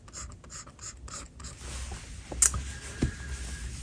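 A Uni Kuru Toga Advance 0.5mm mechanical pencil, largely metal, writing on paper: close, soft scratching strokes in short bursts, then steady graphite scraping with a couple of small clicks, no speech.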